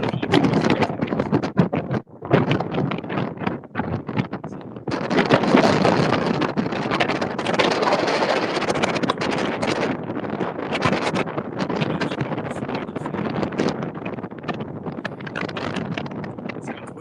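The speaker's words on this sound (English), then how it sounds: "It sounds windy. It is a little windy." Wind gusts across the open 7 Mile Bridge, buffeting the microphone in rough, loud bursts of rumble and rush that rise and fall throughout.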